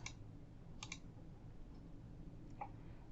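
A computer mouse gives a few crisp, faint clicks, one, then a quick pair, then another, against a steady room hum.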